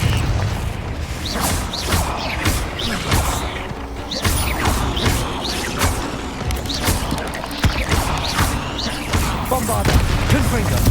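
Confringo and Bombarda spells in Hogwarts Legacy go off as a rapid series of booms, crashes and whooshing blasts, repeated throughout, with a voice shouting over the explosions.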